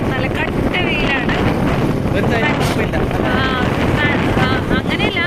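Wind rushes steadily past while riding a motorbike on the road to Munnar, a loud buffeting roar that continues under a person talking.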